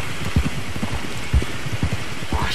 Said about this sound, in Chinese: 哇，下雨哦，这个场景。